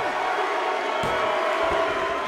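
A wrestling arena crowd at an NWA World Middleweight Championship match roars in a steady, dense wash of noise, with a brief louder swell partway through.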